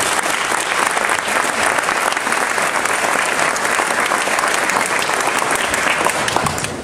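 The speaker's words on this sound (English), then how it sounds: "So give them a round of applause" Dense, loud applause from a crowd at a ROTC awards ceremony, continuous clapping for the battalion that holds steady at full strength throughout.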